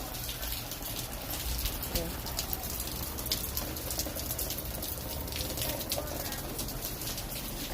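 Steady rain patters on a surface outdoors, with dense drops falling continuously and evenly throughout, close to the listener.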